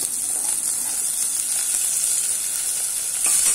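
Chilies, chopped onion and garlic sauté in a hot pan with a bit of asafoetida, giving a steady, even sizzle that holds for a few seconds with no voices.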